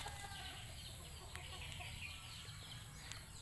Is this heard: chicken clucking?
yes